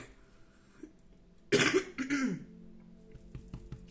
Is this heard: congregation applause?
no